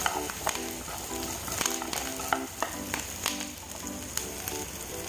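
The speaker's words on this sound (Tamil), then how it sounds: "கருவேப்பிலை இதெல்லாம் போட்டு நல்லா வணங்கிட்டுங்க வெங்காயம் வந்து நல்லா பொன்னிறமாக ஆற வரைக்கும் வணக்கி போட்டணும்" Onions and curry leaves fry in oil for drumstick chutney, giving a loud, constant sizzle broken by sharp stirring clinks and scrapes close by.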